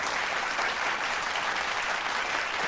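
Steady, dense applause from an audience fills the whole stretch, even and moderately distant with no break or voices on top.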